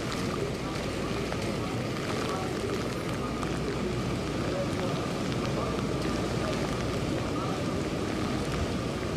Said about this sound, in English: 7 News' Ben Hoover in Myrtle Beach, where obviously rain is coming down there hard.